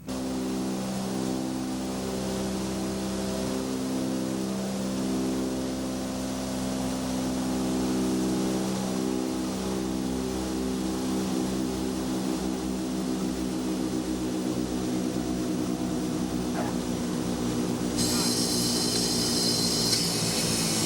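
Radial piston engines of a C-47 transport aircraft in flight, a loud continuous droning roar with steady propeller throb heard from inside, unbroken for the whole stretch with no voices.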